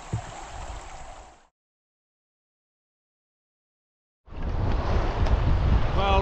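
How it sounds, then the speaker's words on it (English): Wind and waves at Matheson Inlet, Haida Gwaii, under a rising southeast wind: a steady roar of gusts buffeting the microphone with surf rushing, cutting out for a few seconds before returning louder and fuller. "Now the southeast has come up a bit, and we got some waves and some wind."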